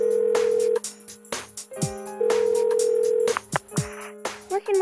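A phone call rings out unanswered in Persona 4 Golden, as repeated steady electronic ring tones alternate with short pauses, clear and up close, with faint game sound effects in between.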